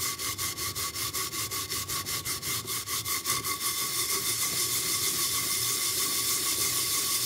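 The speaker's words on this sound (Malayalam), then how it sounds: "നന്നായിട്ട് അരയ്ക്കണം, വൃത്തിയാവും" A steel-based pan being scrubbed clean by hand, rapid rhythmic back-and-forth rasping strokes up front that blur into a continuous close scraping.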